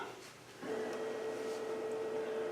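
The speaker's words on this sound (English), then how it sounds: "And now the machine's going to move and scan my hoop." A computerized quilting embroidery machine starts up and moves its hoop to scan the fabric, a quiet mechanical whir joined by a steady motor hum that continues to the end, without talk.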